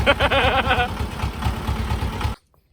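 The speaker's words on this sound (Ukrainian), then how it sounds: "Сімейний трактор." A small family tractor's engine runs with a steady, close, low pulsing throb for about two seconds, then cuts off abruptly into silence.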